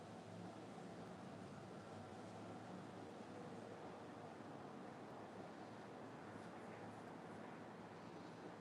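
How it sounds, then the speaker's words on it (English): Strong outdoor wind blowing straight into the microphone, a steady dense rumbling roar that continues unbroken with no pauses. "I feel like the wind's getting pretty intense."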